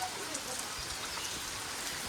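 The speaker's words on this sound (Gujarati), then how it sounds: "હવે તો પલળી જ જાય ને તો બહાર જાય તો વરસાદ ચાલુ થઈ ગયો" Rain falling outside, a steady, dense hiss of drops pattering on surfaces without letup, fairly close and even throughout.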